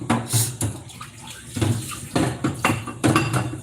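Liquid from browned ground beef drains out of a pan for stuffed peppers, giving a close, watery splashing and pouring sound in several uneven bursts with metal pan clinks, and no talking.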